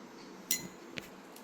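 Soap mixture with aloe vera extract being stirred in a container, giving one bright clink of a utensil against the vessel, then a softer tap a moment later, close and quiet.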